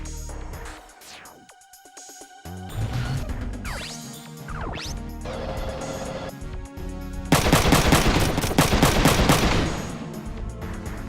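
Tank machine gun in the video game Front Mission 3 chattering in sustained bursts amid game effects, growing louder and denser toward the end with crashing impacts.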